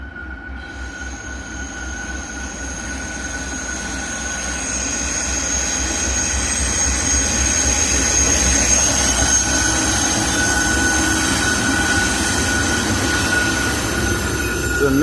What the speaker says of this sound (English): It's a mixed freight train. Probably a manifest.